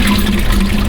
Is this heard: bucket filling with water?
yes